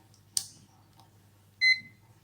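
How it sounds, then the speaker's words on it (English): A multimeter gives a single short, faint electronic beep in a quiet lab setting, preceded by a soft click, with low hum underneath. "Now, I'm going to open the multimeter."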